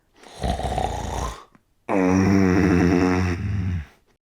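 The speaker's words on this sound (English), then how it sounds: "Soon his blaring snoring shook the walls." Two loud snores close up, a rough rasping inhale followed by a longer buzzing, vibrating snore.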